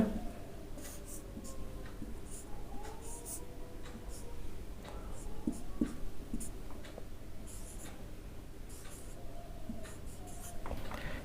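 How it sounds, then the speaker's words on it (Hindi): Pen or pencil scratches on paper as a number is written out by hand, soft intermittent strokes and scrapes close by, faint and quiet, with occasional brief pauses. "तो संख्या हम लोग लिखेंगे पहले।"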